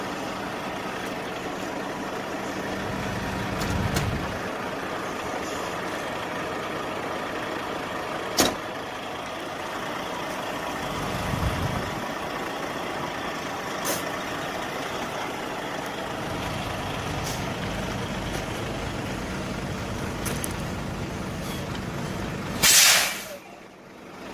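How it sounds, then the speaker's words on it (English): Semi truck pulling away from an uncoupled trailer during an uncoupling procedure: steady engine rumble and hiss throughout, a few sharp air-brake bursts, and a loud air release near the end. "we're gonna take that truck out, clear the trailer"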